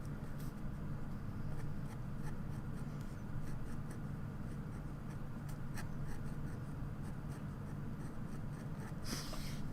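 Fine extra-soft nib pen scratching and scraping steadily across sketchbook paper while a bunny is drawn, a close, continuous dry rasp with small clicks and strokes and no talking.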